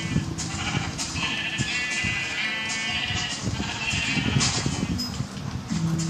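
Sheep bleat repeatedly in the video game Minecraft, several short nasal cries overlapping amid steady background game noise.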